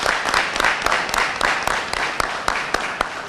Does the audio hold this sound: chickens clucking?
no